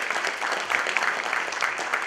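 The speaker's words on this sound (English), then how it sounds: "So I request all of you for a big round of applause for him." A conference audience at a semiconductor summary session gives a steady round of applause, continuous dense clapping throughout without pause.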